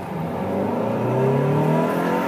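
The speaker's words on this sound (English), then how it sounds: "I love revving it out like that." A 1997 Mazda MX-5 Miata engine revs out hard and loud, its pitch climbing steadily through the gears with a continuous, close-up drone and no talking.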